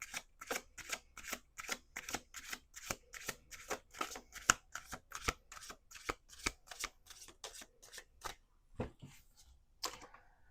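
A deck of playing cards being riffle-shuffled over and over in quick, even bursts, each crisp flutter ending in a sharp snap, close and fairly quiet, with a few slower final riffles near the end.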